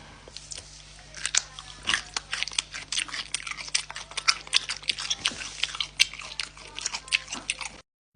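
Repeated crisp crunches of biting and chewing crunchy home-preserved pickled cucumbers, close up, irregular bites and chews continuing steadily for several seconds.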